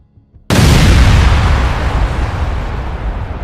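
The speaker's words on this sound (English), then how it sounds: "Artillery was called in first." A single heavy artillery blast erupts after a brief quiet lead-in, then a long rumbling roll of debris and echo decays slowly, loud and close with no speech.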